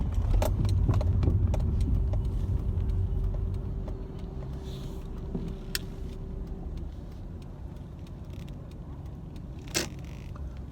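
Steady car interior rumble from a rented Nissan Sentra on the road, a continuous low engine and road drone with a faint hum and a few small clicks and rattles, no talk.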